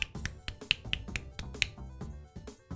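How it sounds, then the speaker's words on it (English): Finger snaps from the video game Bug Fables ring out several times in quick, uneven succession, sharp and close over a bed of game music. "A one-handed clap makes this sound."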